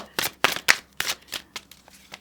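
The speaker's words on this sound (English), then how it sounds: "maybe you want to see me shuffle" Tarot cards are shuffled in quick, crisp bursts of riffling, close and clear, with no talking.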